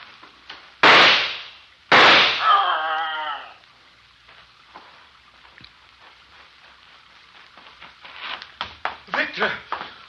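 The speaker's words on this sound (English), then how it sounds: "Did you shoot it?" Two sharp, loud gunshot effects from a 1950s old-time radio drama crack out in quick succession, the second trailing into a ringing decay, followed by tense dialogue from actors.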